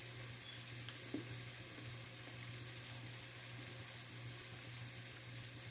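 Burgers frying in a hot pan give a steady, even sizzle with a low hum underneath, continuous and moderately close, with no talking.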